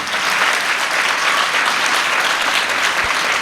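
A church congregation claps loudly and continuously during a Sunday sermon, a dense, close, steady wash of applause with no voices over it.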